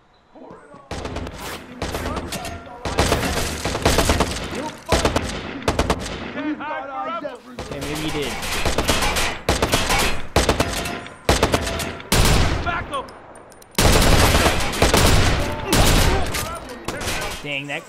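Loud bursts of automatic gunfire from Watch Dogs crack in repeated volleys with short pauses, close and punchy, with brief voices between some bursts.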